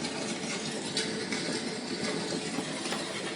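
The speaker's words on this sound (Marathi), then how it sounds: "अग्नीचा आवाज," A fire sound effect plays from a gold-plated 3D talking picture, a steady broadband roaring hiss with faint crackles and no voices.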